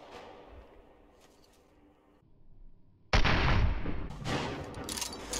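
Gunfire in the video game Metro Exodus: a burst of loud, dense shots erupts after a quieter stretch and continues steadily to the end, close and harsh.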